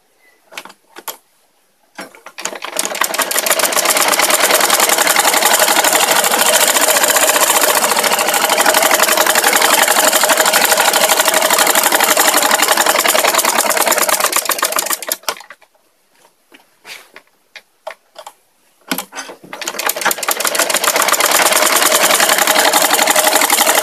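A sewing machine stitches a churidar pajama in long, loud, continuous runs of rapid mechanical chatter, broken by short pauses with a few brief clicks before stitching resumes.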